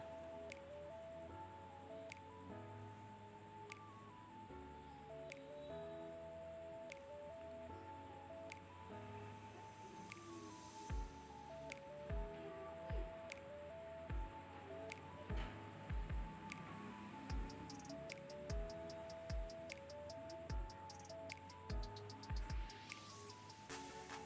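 A spoonful of broken wheat batter frying in hot oil gives a soft, steady sizzle and bubbling, faint and continuous, with occasional small knocks and clicks, behind quiet background music.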